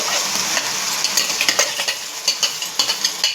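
Onion, garlic and ginger paste fries in a pan for a chicken fry gravy curry, a steady close sizzle broken by repeated soft scraping stirs that quicken toward the end.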